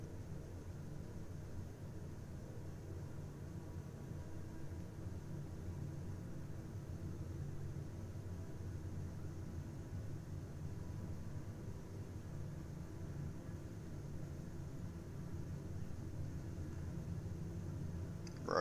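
Turboprop aircraft engines in Microsoft Flight Simulator spooling up during the takeoff roll, a steady low roar and rumble under a constant hiss, rising slightly toward the end, with no talking.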